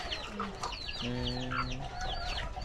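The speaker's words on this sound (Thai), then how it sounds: "อันนี้ไก่เจ้าป่ะ" Chickens cluck close by in a rural Lao village yard where the animals are drinking water. The clucks come in short repeated calls, mixed with sharp chirping bird calls, against a steady outdoor background.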